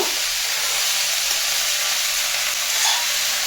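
Shredded cabbage, carrot, peas and soybean chunks frying in a pan as a roll filling, making a loud, even, continuous hiss of steam and sizzle without pauses.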